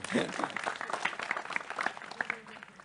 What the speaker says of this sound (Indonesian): kasih tepuk tangan untuk Mbak lah ini